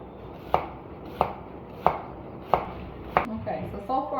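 Celery is chopped with a knife on a cutting board in a home kitchen, five evenly spaced crisp thuds roughly every two-thirds of a second, close and clear, followed by a brief faint voice at the end.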